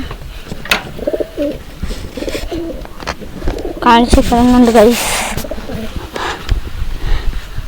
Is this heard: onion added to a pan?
no